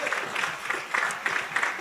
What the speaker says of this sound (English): please, round of applause for that